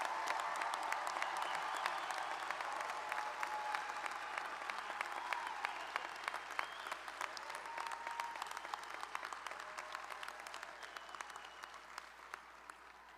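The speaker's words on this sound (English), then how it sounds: "Let's give them one more round of applause." A large crowd applauds graduates at a university hooding ceremony, a sustained, dense roar of clapping heard from a distance that slowly tapers.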